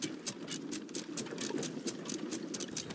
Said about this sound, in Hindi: इसलिए हमने एंकर खींचा